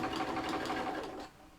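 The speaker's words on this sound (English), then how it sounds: "we're just putting a stitch down there to hold that in place" A short, close run of sewing machine stitching through fabric for an animal cushion lasts just over a second before fading to quiet.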